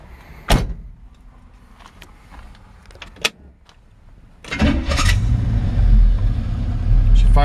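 A 1967 Pontiac Firebird hardtop starts: door and window clunks up front, then the engine catches at about four and a half seconds and settles into a loud, steady idle close by.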